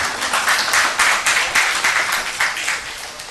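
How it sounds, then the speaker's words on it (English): Workshop participants give a group a round of applause: loud, close clapping from a modest crowd, with individual claps audible in uneven bursts that swell and dip. "Give a big applause to the group."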